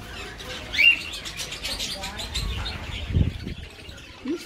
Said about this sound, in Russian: Видишь, что это попугай?